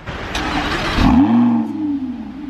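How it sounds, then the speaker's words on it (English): A Bugatti's engine cranks and fires up, then revs hard in a loud, close surge that settles into a lower, steady idle. "Sister's turning on the car."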